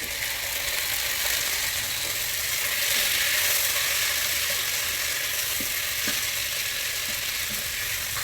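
Chopped tomatoes fry in a pan for prawn biryani with a loud, dense, unbroken sizzle. A few faint stirring taps come through toward the end.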